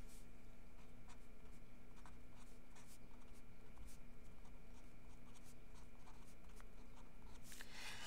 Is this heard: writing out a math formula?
yes